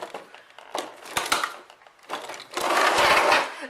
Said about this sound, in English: I have my trusty box cutter.